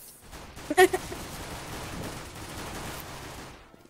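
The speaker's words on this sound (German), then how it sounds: "Jemand schießt auf mich, Mann." CS:GO gunfire: a quick cluster of sharp shots early on, followed by a sustained noisy rattle of distant fire and game ambience, with a few faint pops near the end.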